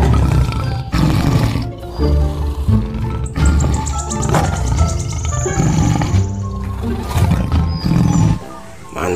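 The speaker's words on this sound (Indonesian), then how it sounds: "Wow, ini harimau." A toy tiger gives out a loud recorded roar with growls and snarls that run for several seconds, and a high whistling tone rises briefly partway through.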